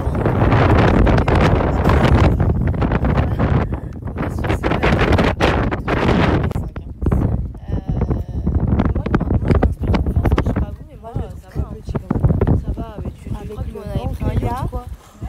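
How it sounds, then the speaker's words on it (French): Strong gusts of wind buffet the microphone in heavy rumbling bursts while people talk over it. "il y a beaucoup de vent."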